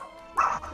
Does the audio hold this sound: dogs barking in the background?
yes